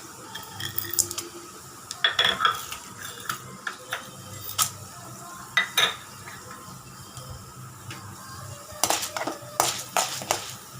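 Chana dal for a weight-loss chutney being fried and stirred in a pan. Spoon or spatula clinks and scrapes in bursts over a soft, steady sizzle, with no talking.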